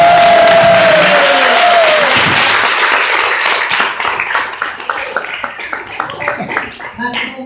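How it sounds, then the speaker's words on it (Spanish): A church congregation at a Mother's Day celebration breaks into loud, dense applause that thins into scattered, uneven claps toward the end, with a brief whistle-like tone at the start. "Un aplauso para la participación."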